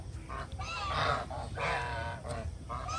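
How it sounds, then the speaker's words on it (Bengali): Geese walk in a line at night on a farm, giving repeated loud, nasal honks in overlapping bursts close by, with no talking. "এখানে রাজা হাঁস গুলো সারিবদ্ধভাবে হাঁটতেছে"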